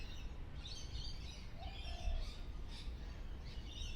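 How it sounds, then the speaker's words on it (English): Faint birds chirping outdoors, heard through a window as scattered high calls over a steady low background hum. "Right now I can hear in the background there are birds chirping."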